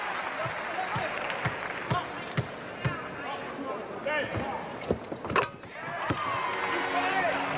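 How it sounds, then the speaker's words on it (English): Arena crowd at a 1989 Knicks–Trail Blazers NBA game in Portland applauds steadily in the background, with repeated sharp basketball bounces and thuds up close and a commentator talking over it. "Fine round of applause"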